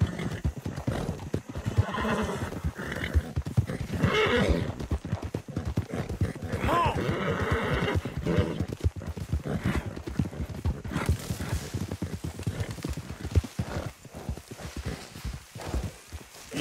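A horse ridden in Red Dead Redemption 2 clip-clops steadily at a brisk pace, with snorts and a whinny in the first half. The dense hoofbeats stay up close throughout, and a voice briefly speaks over them.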